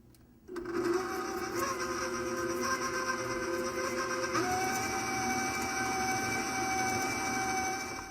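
A stand mixer beats cookie dough for chocolate malted ice cream sandwiches, starting with a sudden whir that settles into a steady motor hum, its pitch rising partway through as the speed climbs, with no talking.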